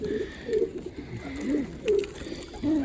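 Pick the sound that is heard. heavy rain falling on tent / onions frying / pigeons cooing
pigeons cooing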